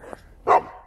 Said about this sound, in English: There's a Saint Bernard. Look at that big dog.